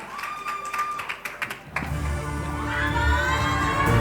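An audience at a fan meet claps in scattered bursts, then a louder, fuller wave of applause and crowd noise rises and holds to the end.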